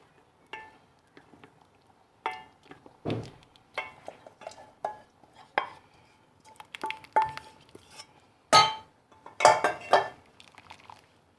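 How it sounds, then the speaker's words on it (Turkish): A metal whisk scrapes and clinks against a pot of Ezogelin lentil soup in short irregular bursts, close by, with brief pauses between strokes. "Biraz da böyle çırpalım."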